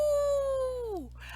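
A single human voice imitates a wolf howl at storytime, holding one long steady note that slides downward at the end and fades, followed by a brief soft breathy sound.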